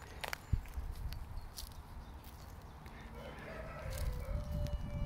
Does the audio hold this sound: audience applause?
no